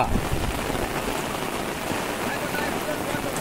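Rain falls on flooded rice fields in Konkan during planting season, a close, continuous patter and hiss with no pauses.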